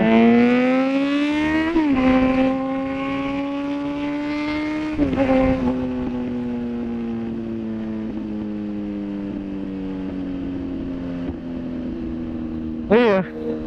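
A 2019 Kawasaki Z900 motorcycle pulls hard through first and second gear, the engine note climbing loud and close, dropping at each shift and rising again, with a final sharp rev near the end; a person talks over it.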